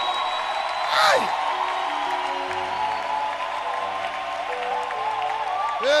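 A church congregation claps and cheers in praise, a steady wash of applause with scattered whoops filling the whole space, with a brief louder burst of shouting early on.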